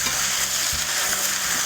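Grillades sizzle steadily in a hot pan as they brown, with a brief scraping stir partway through.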